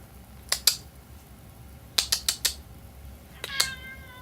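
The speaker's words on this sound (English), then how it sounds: "There's my cat." A house cat gives a few short, sharp meows in a quiet room, clustered in brief bursts over a faint mechanical hum.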